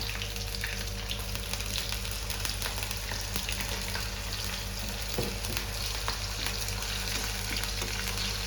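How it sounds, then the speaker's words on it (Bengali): Cabbage and diced potatoes fry in a pan for a vegetarian curry, giving a steady, close sizzle throughout with occasional stirring scrapes and no talking. "ডুমো করা আলুটা দিয়ে ভেজে দেবো।"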